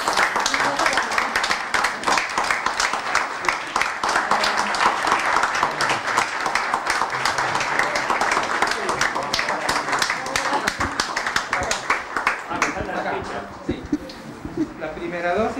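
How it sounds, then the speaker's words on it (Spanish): A group of people applauds at a Sputnik V coronavirus vaccination event, steady dense clapping that fades near the end as voices take over. "Ahí está el aplauso."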